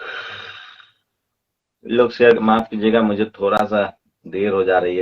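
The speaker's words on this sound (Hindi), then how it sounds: "जम्हाई आ गई, मैं इसके लिए माफी चाहता हूँ।" A man gives a long, breathy yawn that trails off, then after a short pause he talks steadily in Hindi at close range.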